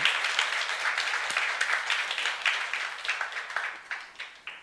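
A church congregation applauds steadily during a sermon, many hands clapping together in a sustained burst with no voices.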